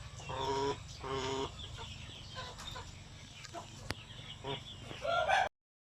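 Native chickens cluck in a farm ranging area, with a few close, repeated clucking calls standing out over a constant low rural background hum.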